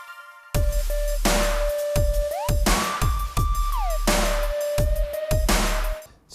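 Converted stems from a music production play back in Logic: a loud, punchy electronic track with pounding kick hits, a sustained synth lead that slides in pitch, and bright layered textures, with no voices over it.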